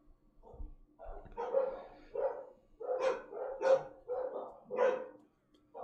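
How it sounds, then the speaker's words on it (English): Several dogs barking indoors in a house, a steady run of about ten sharp barks at moderate distance, alone without speech. "What is all that barking for?"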